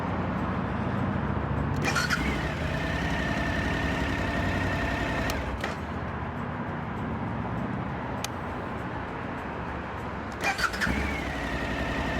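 A Suzuki V-Strom 1050XT motorcycle engine idles steadily throughout, with a few short cranking bursts as the push-button starter kicks in and the motor catches.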